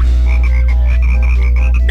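Frogs in the Banjo-Kazooie video game croak in a rapid repeating chorus that sits loud and close over a constant low hum from the game, with no voices.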